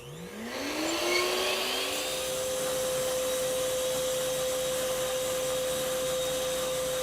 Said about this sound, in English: On the HEPA Vac, there's a reason it's called a HEPA Vac, because we actually have a HEPA filter back here